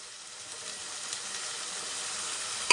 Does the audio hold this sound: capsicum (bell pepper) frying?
yes